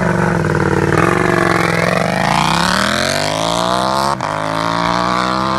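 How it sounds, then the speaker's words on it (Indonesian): KTM LC8c parallel-twin motorcycle engine revving hard, a loud close snarl whose pitch climbs steadily across several seconds with a brief dip near the end, no voices over it. "Bahkan sound dari mesin ini sangat menyerupai mesin V-twin 75 derajat."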